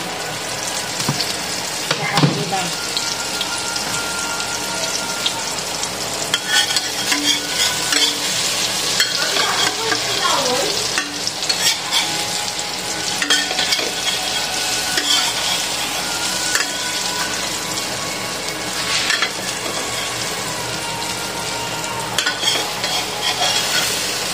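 Eggplant frying in oil for an eggplant omelette, a steady loud sizzle with stirring and scraping throughout, plus occasional clinks of utensils near the pan.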